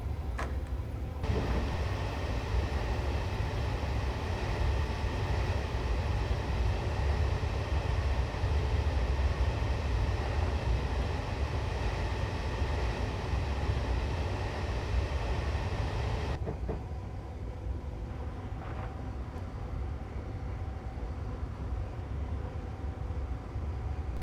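Class 320 electric multiple unit accelerating in Train Simulator 2015 on the Glasgow Central to Lanark route, a steady loud rolling rumble with motor hum and faint rail clatter, continuous and alone.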